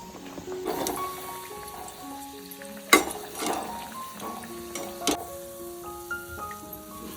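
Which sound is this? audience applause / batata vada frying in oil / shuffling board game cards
batata vada frying in oil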